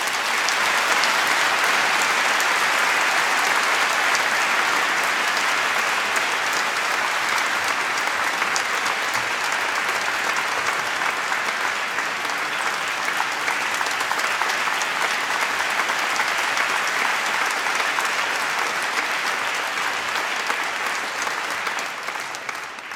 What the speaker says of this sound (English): You deserve to give yourselves one huge round of applause.